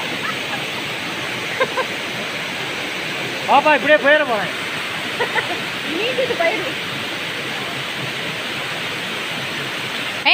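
Water rushes and pours steadily over people bathing beneath a flowing stream of water, a constant loud hiss throughout, with a few nearby voices briefly talking over it.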